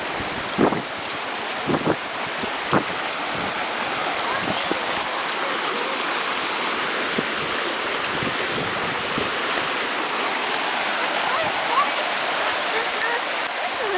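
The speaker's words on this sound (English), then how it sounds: "That's just a little river." A small river flowing along a hiking area near Lehman Caves, a steady broadband rush of water running throughout with wind buffeting the microphone and brief voices talking over it.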